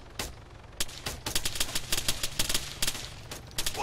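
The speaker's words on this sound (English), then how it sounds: "where is that shooting from?" Video game gunfire, a chaotic spray of rapid cracking shots and short automatic bursts, loud and close, scattered irregularly across the whole stretch with no speech.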